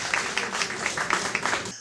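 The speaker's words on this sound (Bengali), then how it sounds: "আমরা আমাদের সম্মানিত অতিথির জন্য একটা জোরে করতালি" Audience applause for an honored guest at a Chittagong comedy event, a short burst of steady clapping with a few sharper claps, cutting off abruptly near the end.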